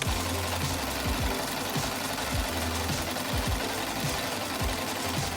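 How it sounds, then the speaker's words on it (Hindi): Sewing machine stitching rainbow ruffles for a doll dress, a fast rhythmic mechanical chatter that runs in steady bursts, close and clear with no talking. "आप सारे स्टिचेस को अच्छी तरह लगाने और सिलाई मशीन का इस्तेमाल करने के लिए किसी बड़े की मदद ले सकते हैं"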